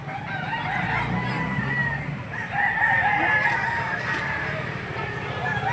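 A rooster crows among clucking fowl at a busy poultry market in Lipa City, Batangas, its call rising over a constant murmur of nearby voices and crowd noise.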